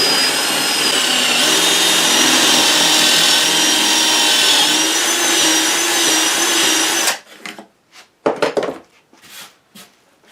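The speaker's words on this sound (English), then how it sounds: "using a special bit on your drill like this. You can drill through" A power drill with a special bit whines loudly and steadily as it bores pocket holes in wood with a jig. It then stops, and sparse knocks and handling clatter follow.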